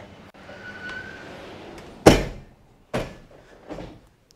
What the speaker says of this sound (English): Let me just quickly close this sliding door.